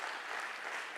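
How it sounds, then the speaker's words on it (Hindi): Applause from a lecture audience, a dense, even wash of clapping heard at moderate distance throughout a short stretch. "जरा ताली बजा दें प्लीज"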